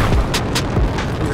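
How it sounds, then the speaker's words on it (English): Several sharp gunshots crack in quick succession in GTA 5, loud and close over low rumbling game noise. "Someone's trying to shoot me."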